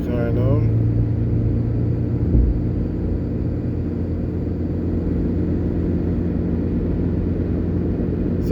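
A car cruising on the Edward Seaga Highway in Jamaica while overtaking another car, a steady in-cabin rumble of engine and road noise, continuous and even, with someone talking over it.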